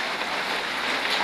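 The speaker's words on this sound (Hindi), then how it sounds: "इतनी तेज़ बारिशें लगी हैं ना" Heavy rain falls on a roof in a steady, even hiss of dense drops, moderately loud and unbroken throughout.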